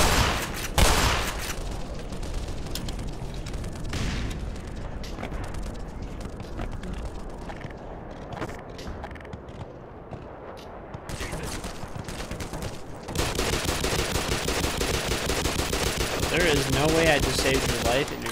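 Gunfire aimed at the player in the video game Black Mesa, with bursts of automatic shots and booms through much of the stretch and a louder, denser barrage toward the end, mixed with game sounds.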